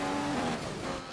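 Marussia Formula 1 car in the racing game F1 2015 at the Austrian Grand Prix, a high-pitched engine whine holding a steady note then shifting as the car drives on, with a broad road-noise wash beneath.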